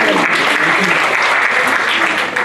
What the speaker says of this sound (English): So I just want to give him a round of applause for that.